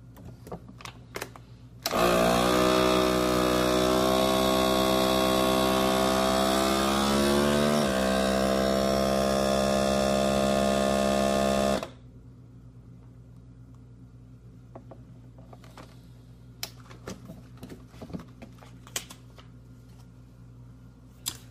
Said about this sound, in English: we're going to suck out the air again and seal it